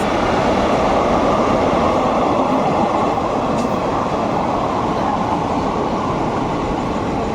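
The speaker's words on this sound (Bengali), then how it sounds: "বালুরঘাট থেকে কলকাতার দিকে যাচ্ছে এখন এই মুহূর্তে তেভাগা এক্সপ্রেস" Tebhaga Express passenger train running from Balurghat toward Kolkata as it passes through Masagram station, a loud, steady close-up roar of wheels and carriages rolling past without a break, no voices.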